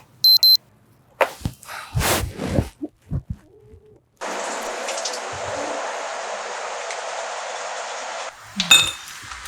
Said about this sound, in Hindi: ये अलार्म तो बंद कर दिया करो ना